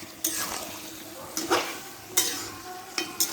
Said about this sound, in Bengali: এবার এই দুটোকে ভালো করে কষিয়ে নিতে হবে